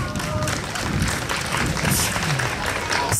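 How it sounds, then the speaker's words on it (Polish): Sustained applause from a crowd at a rural harvest festival, praising a local leader; a continuous, fairly loud wash of clapping with some voices mixed in. "Paweł, wielkie brawa dla ciebie!"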